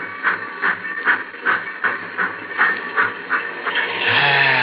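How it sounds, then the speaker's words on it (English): A steam train runs as a radio-drama sound effect: a steady, rhythmic chuff of puffs with clickety-clack underneath, ending in a louder rush of hissing steam. No voices. "The old boiler up front's got the steam up."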